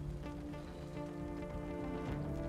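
Magical rain conjured by a spell in Divinity: Original Sin II falls as a steady, dense patter over a sustained tonal game backdrop, with no talking.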